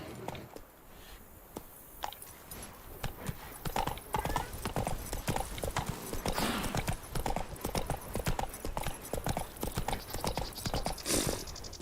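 Roach, the horse in The Witcher 3, trots and gallops under its rider, hooves clip-clopping in a continuous brisk rhythm that grows louder midway, with an occasional snort or whinny over the ambient game backdrop.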